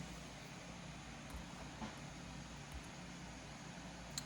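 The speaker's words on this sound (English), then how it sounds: "Here's the fan noise when gaming." Steady broadband whooshing hum of a Razer Blade 14 (RTX 3070) laptop cooling fan running hard while gaming, constant and fairly quiet with no talking.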